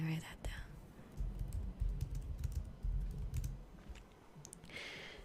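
Soft keyboard typing in a quiet room, a run of light irregular keystrokes with a low background murmur, close and gentle, during a 1998-themed roleplay interview.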